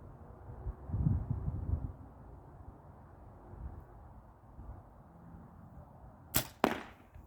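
Two quick sharp arrow shots from a bow snap out near the end, close and distinct, while a pig hunt goes on under a low wind rumble and faint background noise.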